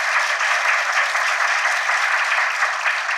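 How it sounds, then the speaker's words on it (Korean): Loud, dense applause from a standing church congregation at a 60th anniversary thanksgiving service in Korea, a continuous roar of clapping without a break. "박수로 하나님께 영광을 돌리고"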